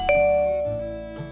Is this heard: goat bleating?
no